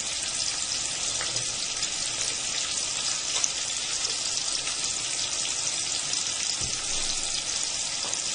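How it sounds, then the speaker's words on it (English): Curry leaves, mustard seeds and cumin seeds frying in hot oil for a green peas curry, a steady close sizzle and crackle that holds evenly throughout with no voices. "So we have to fry this till the onion becomes soft."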